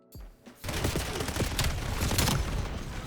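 Rapid automatic fire from an M15 Mod 0 rifle during a Hardpoint match in a video game, a dense sustained burst of gunshots that starts after a short pause and keeps going loud and close to the end.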